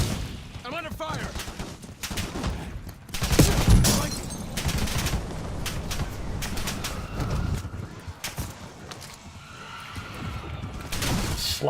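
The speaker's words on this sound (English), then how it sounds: "I'm under fire." Gunfire erupts in a combat video game, a dense spray of shots with a heavy burst around the middle, continuing under steady game noise with only scattered pauses.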